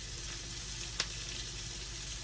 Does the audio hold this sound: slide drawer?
no